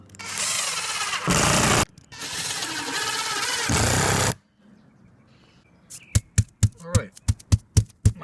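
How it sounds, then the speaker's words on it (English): A power drill drives screws through a piece of backing into an exterior stucco wall during a repair, sounding as two loud sustained whirring bursts followed by a rapid series of short sharp clicks and knocks. "I'm screwing this piece in."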